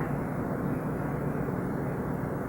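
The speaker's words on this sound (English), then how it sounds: "Probably another airplane going over." A continuous low droning roar of a propeller airplane passing overhead a baseball game, steady and fairly distant, with no speech.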